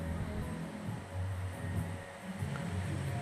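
Sea waves roll in beside a beachfront resort in Rayong, making a steady low surf rumble with gentle surges and some wind buffeting the microphone, with no talking.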